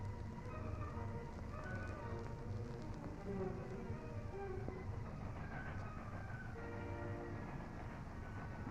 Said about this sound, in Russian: Подходят последние поезда.